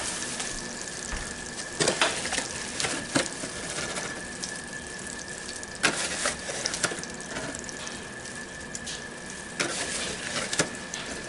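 Butter and flour roux cooking on low heat in a pan, a steady soft sizzle broken by sharp metallic clicks and scrapes of a utensil against the pan; no talking.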